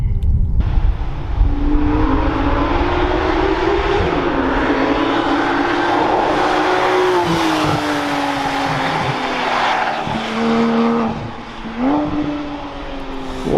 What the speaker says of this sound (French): écoutez ce flat 6